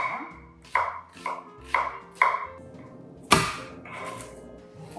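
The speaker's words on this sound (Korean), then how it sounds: "양파를 채 썰어줍니다. 얇게요." A knife slices an onion into thin strips in a home kitchen, giving about six crisp, evenly spaced chops up close, then a louder final cut with quieter scraping.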